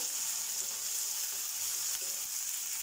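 Tomatoes and beans fry in a pan for vermicelli upma, giving a steady, fairly quiet hiss of sizzling oil with faint stirring, and no one speaks.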